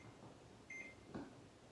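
A kitchen timer set for baking muffins in an oven, giving a couple of short electronic beeps over a quiet room hum, no voices.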